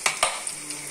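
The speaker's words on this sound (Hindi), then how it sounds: "देखिए मैं इसको भून रही हूँ अच्छे से" Ingredients fry in a pan with a steady sizzle, broken by two or three quick scraping stirs near the start and a couple of softer utensil touches, with no talking.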